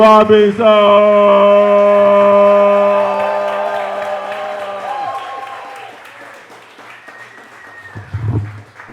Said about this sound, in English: Let's start clapping right now.